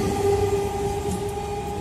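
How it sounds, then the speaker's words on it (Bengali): A Namkhana train heading toward Lakshmikantapur passes through Hogla station, giving a steady loud rumble with a sustained tonal hum throughout and no voices. "ট্রেন চলে যাচ্ছে লক্ষ্মীকান্তপুর অভিমুখে।"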